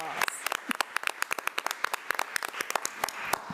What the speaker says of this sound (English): Let's give Ms. Brenda Chisholm another round of applause.